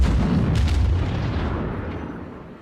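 Heavy cruiser main-battery gunfire in World of Warships, from the USS Pensacola: a loud booming salvo with a long rumbling roll that fades slowly over a couple of seconds, with no talk.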